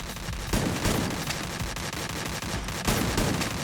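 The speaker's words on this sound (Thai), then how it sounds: "ปืนลั่นปืนลั่น" Gunfire in the Free Fire mobile game, a rapid burst of loud close shots that cuts in and repeats over dense game noise.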